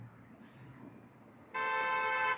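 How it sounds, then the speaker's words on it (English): A car horn gives a single loud, sustained honk in the second half, cutting in sharply over quiet background noise and holding steady to the end. "There's a big honk."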